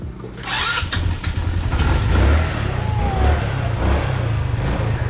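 A motorcycle engine is started with its push-button starter, the cranking catching and settling into a loud, close, steady idle with low rumbling pulses.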